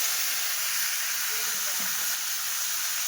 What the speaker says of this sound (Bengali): তো এবার ম্যারিনেট করা মাংসগুলো দিয়ে দিলাম।